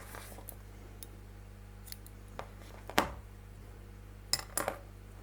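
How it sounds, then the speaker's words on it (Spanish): Scissors snip through crochet yarn beside a wire-framed crocheted cactus piece, giving a few sharp close clicks with a small double snap near the end, alone in a quiet room. "y cortamos el hilo."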